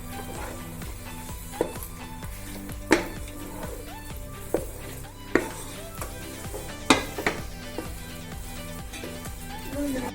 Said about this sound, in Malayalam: ഇതിലേക്ക് നമുക്ക് നെയ്യ് കൂടെ ഒഴിച്ച് നന്നായി വഴറ്റിയെടുക്കാം.